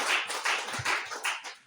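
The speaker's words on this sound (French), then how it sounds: "Applaudissez pour le Seigneur." A congregation at a French-language prayer gathering claps in steady rhythmic bursts, several claps in quick succession, fairly close and moderately loud.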